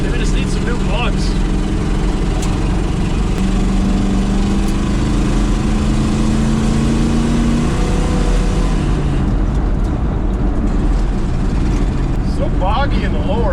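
A 1970 GMC truck engine runs rough and boggy at low RPM, a loud, constant rumbling drone close by with uneven pulsing, under occasional voices.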